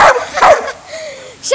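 A dog barks twice in sharp bursts, then lets out a rising whine before another short bark; close and loud.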